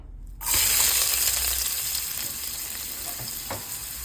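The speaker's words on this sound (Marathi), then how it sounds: "तूप गरम झालेलं आहे चांगलं. आता याच्यामध्ये आपण टाकूया कांदा." Chopped onion dropped into hot ghee bursts into a loud, close sizzle after a moment of quiet, then keeps up a steady hissing fry with faint crackles, no talking.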